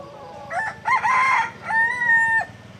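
Hill chickens in Satchari National Park, a rooster crowing in two drawn-out calls close by, with clucking and soft background noise between them.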